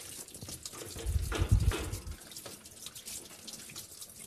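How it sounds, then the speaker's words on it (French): White vinegar is poured into the bottom of a dishwasher tub, making a close, gurgling liquid splash that swells midway and then settles into a softer trickle. "Je vais donc mettre du vinaigre au fond de la cuve."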